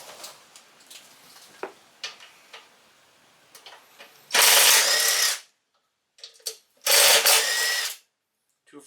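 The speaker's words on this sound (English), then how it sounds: "we're going to use a 3/8 inch socket" Hand ratchet fitted with a 3/8 inch socket turning bolts on a Briggs and Stratton push mower: faint scattered clicks, then two loud bursts of rapid, close ratcheting lasting about a second each.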